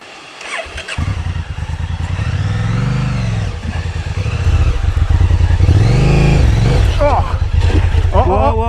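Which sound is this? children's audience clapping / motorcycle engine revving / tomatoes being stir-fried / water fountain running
motorcycle engine revving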